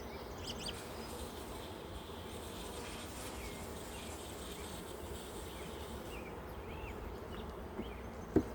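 Honey bees hum around an open hive during an inspection, a faint, continuous buzzing that stays even throughout with no talking.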